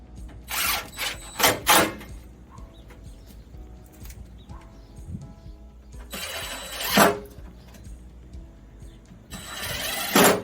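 Ratchet and socket turning bolts while restoring a Suzuki Samurai, several bursts of quick clicking ratchet strokes separated by quieter pauses with faint handling noise, close up, no talk.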